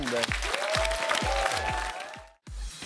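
A studio audience applauds performers on a French-language televised talent show, a steady wash of clapping that runs for nearly three seconds, drops out briefly, then resumes, with a host's voice speaking over it.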